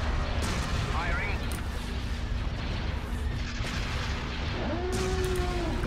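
Space cannons firing in Star Wars Empire at War, Republic at War mod, a dense rumbling barrage of booms and bursts with laser-like chirps and a rising tone, under voices speaking.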